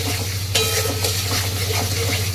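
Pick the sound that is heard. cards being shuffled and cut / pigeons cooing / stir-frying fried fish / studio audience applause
stir-frying fried fish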